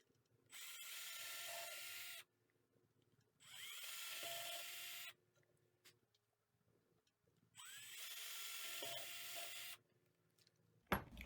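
A power drill bores into a climbing hold with a skinnier bit in three close, loud bursts of about one to two seconds each, separated by quiet pauses.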